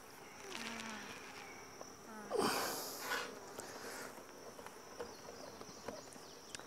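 Faint buzzing of honey bees flying close by around an open hive, with a louder swoop as one passes near, over quiet outdoor background.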